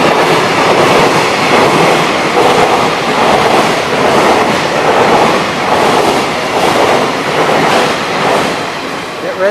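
A train rumbles loudly through Yokohama station in Japan, with a steady rolling roar and rhythmic wheel clatter sustained throughout, close by and alone.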